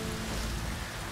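Steady rain in The Witcher 3 video game, a dense, even hiss of falling water with no talk over it.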